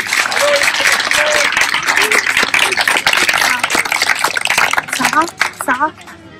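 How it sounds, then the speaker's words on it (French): An audience applauds a children's school choir at an outdoor garden event, with sustained clapping throughout, some voices mixed in, and the applause trailing off at the end. "Alors, vous pouvez les applaudir pour les encourager."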